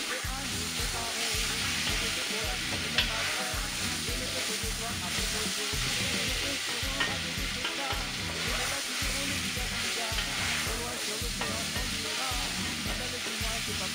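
Beef and tomatoes sizzle and fry in a pan while being stirred, a loud continuous hiss with a regular scraping rhythm from the spoon throughout.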